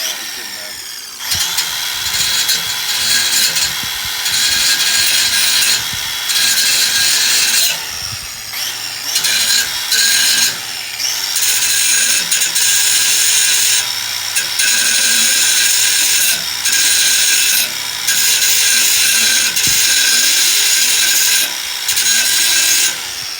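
A power grinder strips galvanized coating off a metal distributor bracket on a Toyota mini truck, a loud, harsh, continuous high-pitched grind with brief dips and restarts, close to the listener, with occasional talk underneath.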